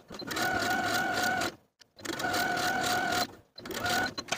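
A sewing machine stitches a front pocket to its seam allowance on elastic-waist shorts, running in three steady whirring bursts separated by brief stops, close and clear with no talk.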